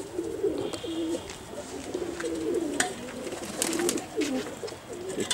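Pet pigeons, including a single dobaaj male and females, coo in several overlapping low rolling phrases nearby, with light rustling and scattered clicks around them.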